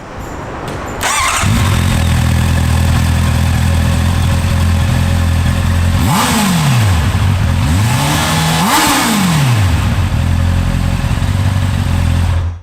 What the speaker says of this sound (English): a word on the sound, as I know we all like a nice exhaust note. The 650 I borrowed had a stock exhaust.